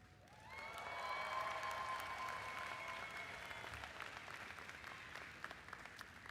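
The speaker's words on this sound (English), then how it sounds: "give a loud applause and a big hoop and big holler of thanks" Graduates at a public health school commencement break into sustained applause with scattered whoops and cheers, swelling quickly and holding steady as the crowd claps together.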